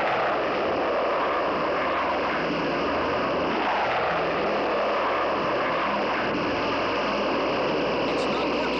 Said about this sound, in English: Full power on all thrusters, Merc.